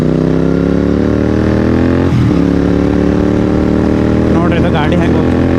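A Royal Enfield GT 650 motorcycle engine runs loud and steady with a deep harmonic drone, shifting pitch as it rides along, with people talking over it.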